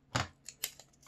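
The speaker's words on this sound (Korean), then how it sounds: "이제 가위로 잘라줘요." Scissors snip through colored paper while a circle is cut out for a folded paper craft, two or three crisp close cuts in quick succession, quiet and without talk.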